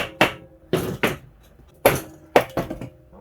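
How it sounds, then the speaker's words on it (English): A hammer strikes about five times in uneven bursts against a compressed block of crushed cans stuck in a homemade log-splitter can crusher. Each sharp metallic bang is close and loud, with brief rattling decay. "I'm just going to take the hammer, kind of pound it back just a hair so that I can get this loose"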